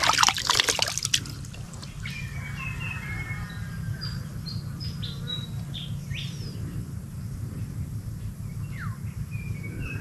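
Water trickles and splashes steadily near a pet bird named Bagwis, with a burst of clattering and splashing at the start and scattered chirps and bird calls over a constant low hum.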